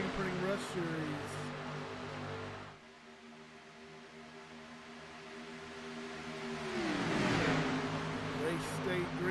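Race cars in an Athens Screen Printing Rush Series speedway race on a Monday night: a droning pack of engines fades into a brief lull, then a car roars loudly past close by with a rising, then falling, engine note.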